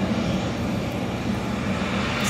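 Airliners being pushed back at Heathrow Airport, a steady loud aircraft engine roar with a low whining drone held evenly throughout, no talk.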